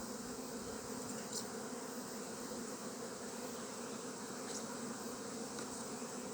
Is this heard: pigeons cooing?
no